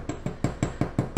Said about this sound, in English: for this hammer tone look, I'm just going to go ahead and hit it everywhere